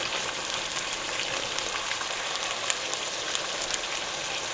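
Breakfast burrito filling frying crispy in a pan with the liquid cooking off: a steady, dense sizzle with scattered small pops and crackles, continuous and close.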